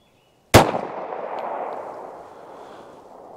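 A .380 pistol fires Federal Hydra-Shok 90-grain low-recoil ammunition once, a sharp, loud crack after a moment of silence, followed by a long reverberating tail that fades slowly.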